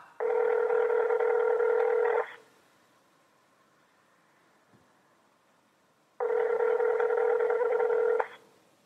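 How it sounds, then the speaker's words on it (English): An unanswered phone call rings out through the handset, with two long, steady two-second ring tones separated by about four seconds of near silence. "It just rang and rang."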